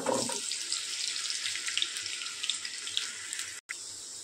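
Potatoes hit hot oil in a kadhai, a quick burst of spattering at first that settles into a steady, fairly soft sizzling hiss with scattered crackles.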